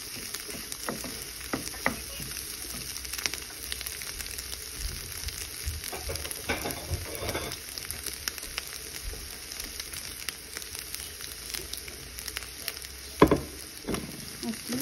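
Scrambled eggs sizzle and fry in a pan while a utensil scrapes and stirs them, a continuous crackling hiss with irregular scraping taps throughout and a louder clack near the end.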